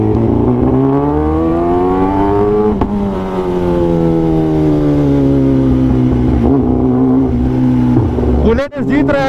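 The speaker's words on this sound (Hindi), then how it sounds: "अरे भाई आज बुलेट वाला रेस करके ही छोड़ेगा" A Royal Enfield Bullet motorcycle racing on an Indian road, its loud engine droning steadily and revving, with pitch climbing and then easing off, close by and continuous.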